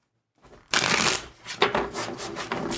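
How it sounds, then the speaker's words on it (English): A deck of tarot cards is shuffled up close after a brief silence, a fast papery riffle followed by a few more flicking bursts. "One more shuffle for Nina."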